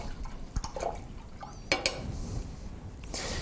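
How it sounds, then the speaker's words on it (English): An oil painter's brush rinsed in a container of water, brief faint sloshing and dripping with a couple of light taps against the container, no speech. "Now let's rinse your brush"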